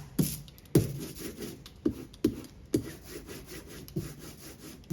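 A carving tool cuts into a linocut block with scraping, rasping strokes, roughly ten sharp gouges at an uneven pace, close and fairly loud, with no talking.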